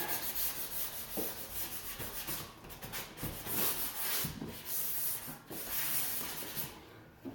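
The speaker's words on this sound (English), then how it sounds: "I follow it up with a sanding sponge." Soft, steady scratchy rubbing of a sanding sponge across flat MDF millwork, strokes repeating in an uneven rhythm, close and quiet.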